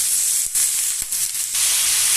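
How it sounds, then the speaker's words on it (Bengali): Shredded cabbage added to a frying pan after potatoes sets off a strong, continuous hissing sizzle, broken by a couple of brief dips and clicks. "আলুটা ভাজা হয়ে গেছে, এবার আমি বাঁধাকপিটা দিয়ে দিচ্ছি।"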